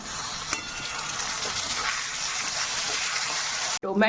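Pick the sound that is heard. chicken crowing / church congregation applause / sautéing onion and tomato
sautéing onion and tomato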